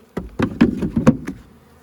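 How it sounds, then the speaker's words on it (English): Honey bees buzz around an open box of honey frames during a honey harvest, with several short, close buzzing bursts in quick succession before trailing off. "the bees just floating around this box"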